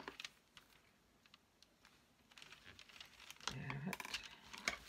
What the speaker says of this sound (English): This piece, I can just fold that over.